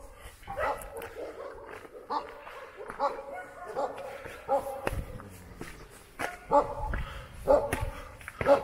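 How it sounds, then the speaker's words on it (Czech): Stray dogs barking in a ghetto street in Valparaiso, Chile, a series of sharp barks repeating at irregular intervals, moderately near, with some voices in the background. "Teď vám ukážu, jak na divoký psy v getu."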